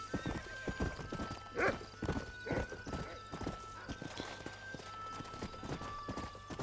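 Horses in the video game Red Dead Redemption gallop at the start of a race, with rapid, loud hoofbeats clattering close by and a short whinny rising above them, and almost no talk.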